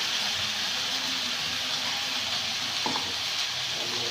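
Egg and potatoes fry in an oily spice paste, giving a continuous close sizzle and hiss with a few brief stirring scrapes partway through, and no voices.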